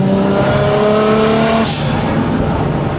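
A turbocharged Toyota 1JZ engine in a Datsun 280Z revs loud and close, holding a steady rising pitch before the tone drops and the engine settles into a rough, throaty note.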